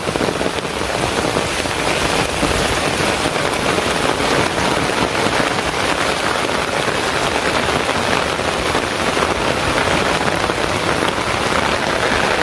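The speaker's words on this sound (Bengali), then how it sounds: "বৃষ্টিটা কি জানাবো না মানে সারাদিন শুধু বৃষ্টি আর বৃষ্টি" Heavy rain pours steadily over a village in the rainy season, a dense, unbroken hiss of drops hitting surfaces that stays loud and even throughout, with no voices.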